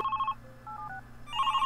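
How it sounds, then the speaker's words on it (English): Telephones ring in the office-management video game Smooth Operators: a bright electronic trill at the start, a brief softer two-tone chirp in the middle, then another ringing burst at the end, with no voices. "you hear the noises of phones ringing"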